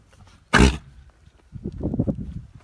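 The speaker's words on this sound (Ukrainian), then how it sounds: "ти кашляєш як старий дід" One sharp, loud cough breaks a quiet moment, followed by softer grunting, rumbling noises.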